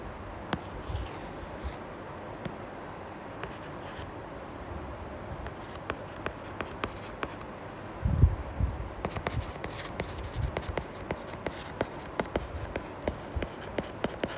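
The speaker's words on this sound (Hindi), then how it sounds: "ढंग से लिख देती हूँ मैं लूसो।" Marker or chalk writing on a board during a history lesson, faint scratching strokes with scattered taps and clicks, steady and soft throughout with no talking.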